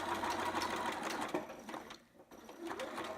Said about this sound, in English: So we're gonna back stitch for sure, because this is the crotch